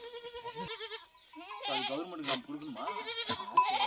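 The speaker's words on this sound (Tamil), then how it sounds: "இதுதான் வெள்ளாடு" A goat on a farm near paddy fields bleats several times in wavering, nasal cries, close and fairly loud, with a person talking over and around the calls.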